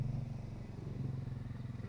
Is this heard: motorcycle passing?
yes